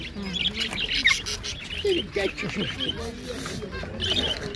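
Green parrots squawk and chirp in shrill bursts close by, overlapping with people talking in a busy indoor bird market in Kropotkin, Russia.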